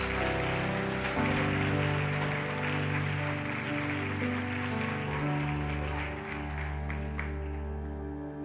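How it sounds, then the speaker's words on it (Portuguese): Church congregation applauding, a dense wash of clapping carried over sustained music with steady organ or keyboard tones, continuous and fairly loud for the whole stretch. "Você pode aplaudir a Jesus"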